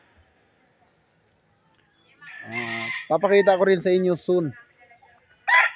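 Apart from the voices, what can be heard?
chickens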